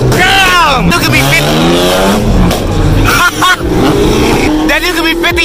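A loud car engine revs hard and roars close by, its rising, swooping pitch sweeps repeated as it passes at a car meet, with people talking over the din.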